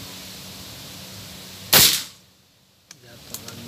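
One crisp, loud report from a PCP Predator Dural OD 38 air rifle on an accuracy test, decaying quickly into near silence, then a couple of small faint clicks as the pellet strikes the target.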